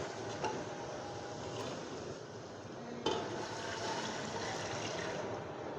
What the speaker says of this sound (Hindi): अब हम इसमें पानी शामिल कर लेते हैं।